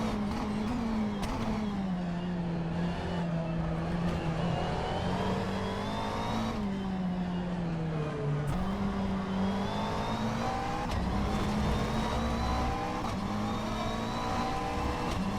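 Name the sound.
McLaren race car engine driving a lap in VR racing video game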